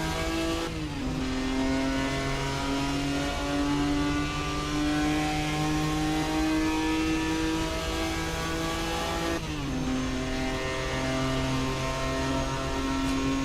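A 1967 Jaguar E-Type racing at Le Mans in Assetto Corsa, its engine droning loud and sustained at high revs, with two quick gear-shift dips in pitch.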